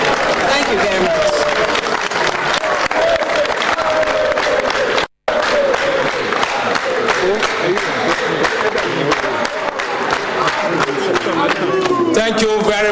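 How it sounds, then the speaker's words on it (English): A crowd applauds and cheers for a vice president during an official visit to a transport ministry: dense, loud, sustained clapping close by, with voices mixed in and a brief dropout partway through. "The applause is too low."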